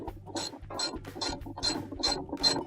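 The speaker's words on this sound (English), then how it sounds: "Then we'll take our socket with the ratchet. We'll tighten that back up." Socket ratchet turning to tighten the agitator bolt on a top-load washer during a clutch band and lining replacement, giving six rhythmic rasping clicking strokes, close and fairly loud, with no talk.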